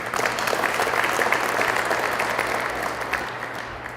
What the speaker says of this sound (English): May we give a nice round of applause to Matty McConnell in absentia